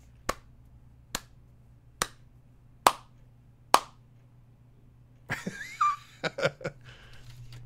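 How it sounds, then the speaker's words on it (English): Five slow, evenly spaced hand claps ring out crisply about a second apart, like a mocking golf clap, followed by a short burst of jumbled noises and chatter. "Here's a slow golf clap."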